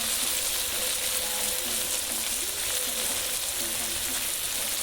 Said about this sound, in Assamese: মাংসখিনি ভাজি হোৱাৰ অকণমান ভাজি লৈ পেলাই দাদাই পিঁয়াজখিনি দি দিছে।